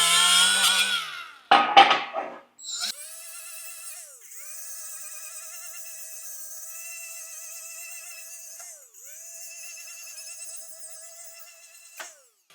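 A surface conditioning pad on a power tool smooths a custom metal oil cap in a workshop, a steady high whine running close and loud for several seconds after a brief burst of handling noise.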